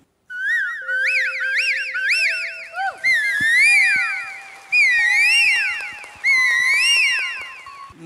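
A man whistles an imitation of an Asian koel, repeating rising, looping calls in several bursts with brief pauses, loud and close, with no other sounds around it.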